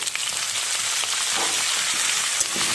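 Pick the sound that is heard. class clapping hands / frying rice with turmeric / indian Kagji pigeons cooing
frying rice with turmeric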